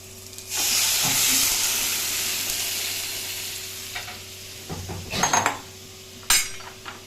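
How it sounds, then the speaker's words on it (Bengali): Lentils (dal) poured slowly into a pan of frying vegetables with drumstick: a loud hiss and sizzle that gradually softens, then a few clanks and scrapes of a spoon against the metal pan, with no voices. "এখন আমি ডালটা আস্তে আস্তে দিয়ে দিচ্ছি।"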